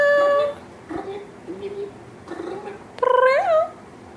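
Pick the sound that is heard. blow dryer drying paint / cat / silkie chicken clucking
cat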